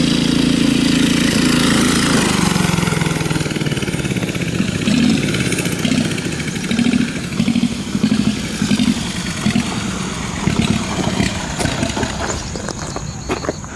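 A turbo diesel go kart engine runs loud and close, a rough continuous drone with rhythmic pulsing as the revs rise and fall.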